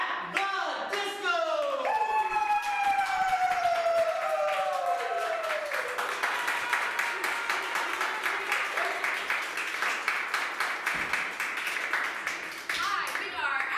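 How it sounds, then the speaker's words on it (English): An audience applauds an improv team at a comedy club's Harold night, a steady dense patter of clapping throughout, with loud whoops and cheering voices rising over it at the start. "Please give a warm round of applause for At The Disco!"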